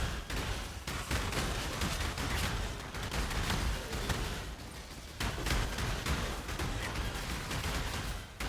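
Dense chaos-damage area explosions in the action game Path of Exile burst in rapid, overlapping succession, a loud continuous crackling barrage with brief pauses and no talk.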